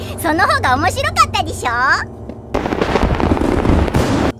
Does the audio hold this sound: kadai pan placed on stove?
no